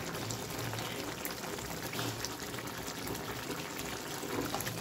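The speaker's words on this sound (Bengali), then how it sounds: "ঝোলটা ফুটুক। ঝোলটা ফুটে উঠেছে" Gravy for a flour-based vegetable curry boils in a pot, giving a steady, dense bubbling and hissing that continues without pause and without talk.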